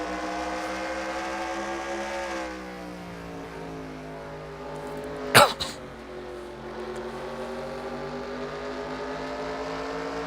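Stock car engines drone steadily at a Richmond short track in a sim racing game, a pack of cars holding a layered harmonic roar with a brief sharp burst partway through.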